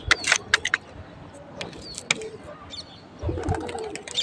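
Trained pigeons moving in and out of their loft, heard as close wing flutters and sharp clattering bursts with a few short coos, over a soft outdoor background and a passing murmur.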